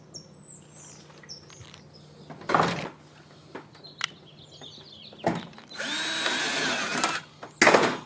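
A power drill driving screws to fix a solar panel mount onto corrugated metal roofing, in several short whirring bursts and one longer run, with birds chirping outdoors between them.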